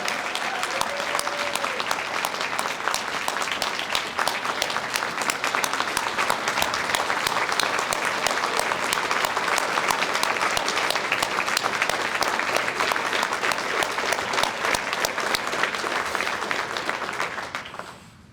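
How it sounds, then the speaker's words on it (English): Sustained, even applause from a banquet audience honoring student ambassadors at a Wisconsin technical college event, dense clapping holding steady for about seventeen seconds before tapering off. "one more round of applause for all of our 2022 ambassadors."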